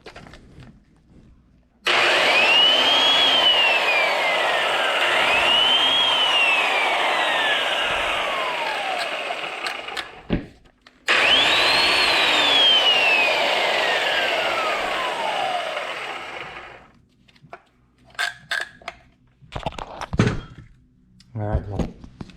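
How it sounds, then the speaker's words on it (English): A repaired belt sander with a replaced power cord running: two long bursts of loud, steady motor whine with rising and falling pitch sweeps, a brief stop between them, then quieter clunks and handling as it winds down. "Just get a belt and do some sanding."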